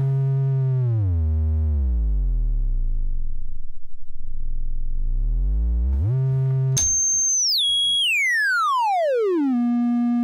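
A bright triangle-wave tone from a Feedback Modules TWO59 synthesizer oscillator sweeps down in pitch, rises again, then jumps high and glides steadily downward, loud and continuous.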